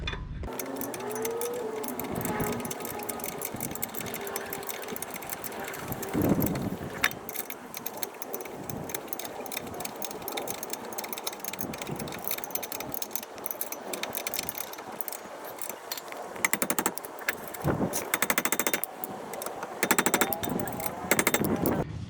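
A brake caliper mount on a 2012 Subaru Outback is tightened during a front brake pad and rotor job: quiet, rapid metallic ratcheting clicks and tool rattles arrive in bursts against a faint background hum.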